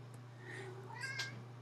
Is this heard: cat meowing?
yes